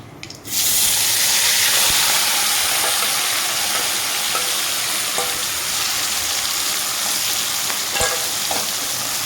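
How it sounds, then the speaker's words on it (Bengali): Small tin kata fish hit hot oil seasoned with fried black cumin, setting off a sudden loud sizzle that stays strong and steady, with a few faint clicks of stirring and no talking. "আমার কালো জিরেটা ভাজা হয়ে গেছে আমি দিয়ে দিব মাছটাকে"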